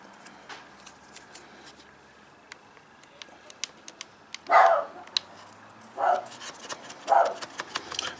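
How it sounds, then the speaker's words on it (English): A dog barking at workers next door, a few loud separate barks in short bursts against quiet background ticks and clatter, fairly close. "My dog barking at the workers next door."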